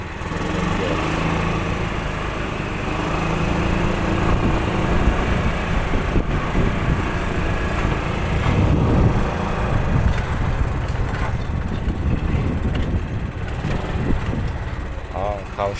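A hotel garbage cart's motor runs steadily and close for a long stretch, a continuous buzzing drone with small shifts in pitch and load.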